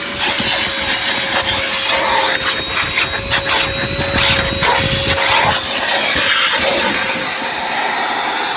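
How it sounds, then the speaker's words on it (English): A car vacuum cleaner runs loud and close with a steady roaring whine and rushing air, its pitch holding then wavering as the nozzle works over the interior outdoors on a sunny day. "start vacuuming."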